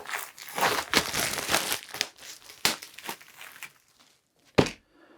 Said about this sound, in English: Okay, cut this here. It's covered in plastic,